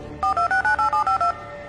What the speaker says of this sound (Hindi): सुधांशु ने अपनी एक सेल्फी खींची और तुरंत निर्मल को फोन किया।